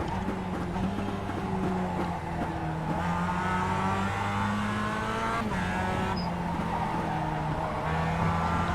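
Race cars in the iRacing sim production car challenge on the Daytona 2008 moto course: a steady, loud engine drone with shifting pitch and brief tire squeals, continuous throughout with no talking.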